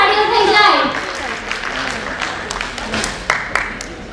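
An audience at a Jain women's association 50th anniversary function in Vadodara bursts into loud, sustained applause that slowly thins out, with a voice talking over the clapping.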